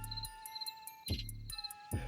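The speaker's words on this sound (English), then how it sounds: "Crickets." Crickets chirping in a steady, pulsing rhythm, close and fairly clear, with no voices.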